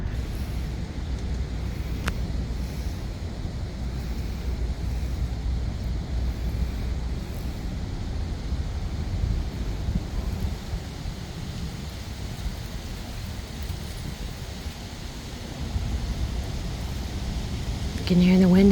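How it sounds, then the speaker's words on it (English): Wind blowing steadily through the trees of autumn woods on an October day, a continuous broadband rush with low rumbling gusts and no break, heard from within the forest. "You can hear the wind in the trees."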